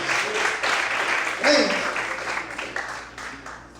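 Church congregation clapping in praise of God during a Portuguese-language sermon, a broad burst of applause under a preacher's voice that gradually thins out.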